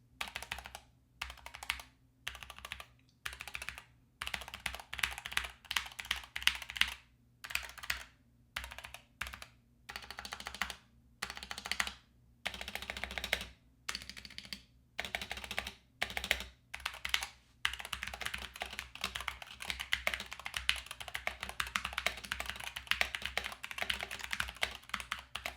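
Steady typing on a Corsair K65 Pro Mini keyboard with Corsair optical switches, a close, continuous run of crisp keystrokes in bursts with short pauses, no voices.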